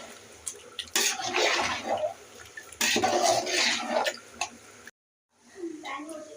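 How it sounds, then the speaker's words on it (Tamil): Water gushes into a large pot for two kilograms of chicken biryani rice in two close, splashing bursts, followed by a short silence and a fainter rustle. "ஒன்றுக்கு 2 தண்ணி ஊற்றிருக்குறாங்க அரிசிக்கு."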